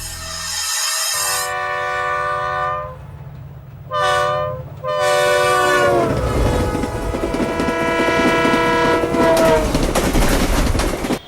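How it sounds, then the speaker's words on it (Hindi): Trains at Ahmedabad railway station sound long tonal horns, a short blast between longer ones, then carriages rumble and clatter past loudly and close by. "इस वक्त हम मौजूद है अहमदाबाद रेलवे स्टेशन पर।"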